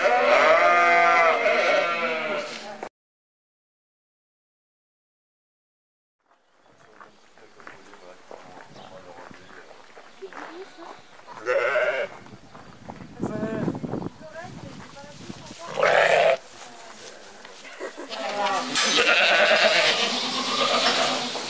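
Lambs bleat loudly and repeatedly, starting with a burst, then a silent gap, then more bleating mixed with people talking and movement nearby.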